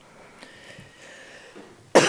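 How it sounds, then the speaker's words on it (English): A single loud cough from a person with a spring cold, sharp and close, coming abruptly at the end after a quiet stretch of room noise. "I have a spring cold, so I may have to cough periodically"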